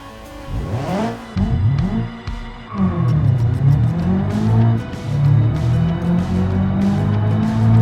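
Ibishu BX drag cars in the BeamNG racing game, turbocharged to 212 horsepower with manual five-speed gearboxes, roar down the strip. Loud engines rev and drop through gear shifts, with a brief tire squeal early on.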